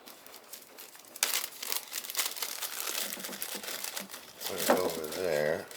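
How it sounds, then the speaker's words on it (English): A plastic Ziploc bag is handled up close, with bursts of crinkling and rustling that grow busier toward the end, where a voice speaks over the handling. "let's take a Ziploc bag"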